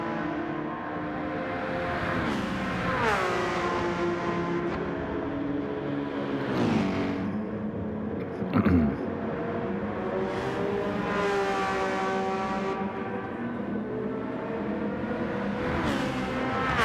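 Racing engines of a Porsche and a Citroen in a sim racing game, revving high and shifting through gears, steady and loud, with a car sweeping past midway and no speech.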